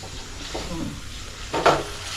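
Ground masala paste of onion, coconut, garlic, ginger, coriander and chilli frying in oil, a steady close sizzle with a couple of stirring scrapes, one louder near the end.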